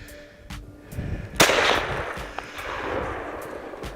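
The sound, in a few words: rifle gunshot at whitetail deer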